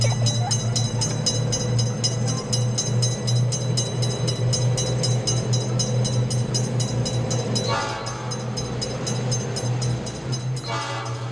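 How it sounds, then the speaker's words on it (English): A single-car electric train rumbles steadily close by at a railroad crossing, with a constant low hum and periodic clicking, and a brighter mechanical whine rising briefly near the end. "What an interesting train! Only one wagon."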